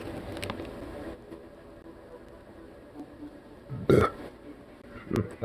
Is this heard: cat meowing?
no